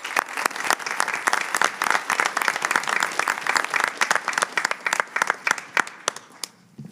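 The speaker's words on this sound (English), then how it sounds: "So please give a round of applause to all the sponsors." Audience at a Board of Education meeting applauds the sponsors, a dense steady round of clapping from many hands that fades out near the end.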